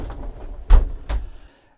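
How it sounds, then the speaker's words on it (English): A camper's shower door slides shut and latches, giving two distinct thuds about half a second apart over a low rumbling background, with no talking. "When you're traveling, make sure the shower doors are connected with the safety latch"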